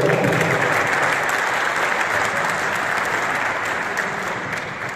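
Sustained applause from a large audience at a World Mountain Day celebration in Jampur, dense and even, loud at the start and slowly fading over five seconds, with no voices.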